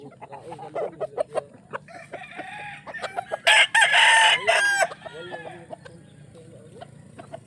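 Roosters crow loudly nearby at sunrise in Medellin, Cebu, Philippines, with a long cock-a-doodle-doo in the middle, among clucking hens and scattered farmyard noises.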